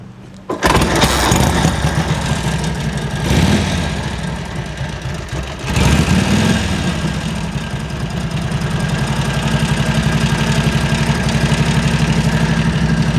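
An old Harley-Davidson motorcycle engine fires up after a kick start and settles into a loud, close, rumbling idle with a steady low pulsing beat throughout.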